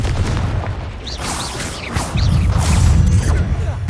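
Fire-based Confringo spell blasts in a video game, heard as loud, sustained rumbling booms with crackling bursts layered over a continuous dense roar, a brief dip midway and then swelling again.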